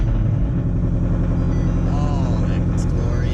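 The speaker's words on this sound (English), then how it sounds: "Love the way this car sounds." A Ford Mustang S550 idles close by at a February 2019 car meet in Brandon, Florida, a deep steady rumble with a low throbbing pulse that runs unbroken throughout.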